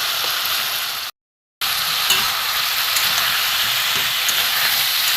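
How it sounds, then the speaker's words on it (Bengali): Spice paste sautéing in a pan with water from rinsing the spice plate, a vegetarian Bengali dish, giving a steady close sizzle with a brief cut to silence near the start. "মশলা থালা ধোয়া জলটা দিয়ে আমি একটু ভালো করে কষিয়ে নেবো"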